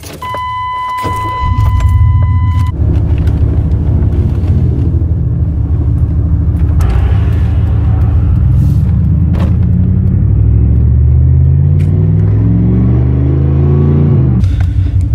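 A car engine rumbles loudly and steadily while the car sits stuck in traffic, preceded by a short electronic tone and ending with the engine rising and swelling as if revving.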